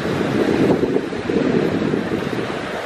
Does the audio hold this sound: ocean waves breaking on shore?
yes